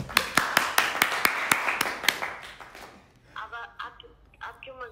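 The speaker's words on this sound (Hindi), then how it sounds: "जोरदार तालियां हो जाए।" A handful of sharp, loud claps in a quick regular rhythm, close and isolated, then stopping as a voice starts talking over a phone line.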